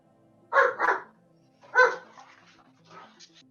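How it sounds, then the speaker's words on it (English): A dog barks angrily, two quick barks followed by a louder single bark and a softer trailing yip, heard alone against a quiet background. "That dog sounded angry."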